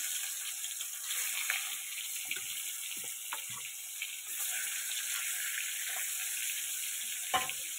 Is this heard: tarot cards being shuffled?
no